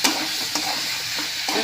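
A potato, coriander and sprouted moth bean mixture is stirred in a hot pan, a steady sizzle broken by a few scraping strokes of the spoon, close and alone.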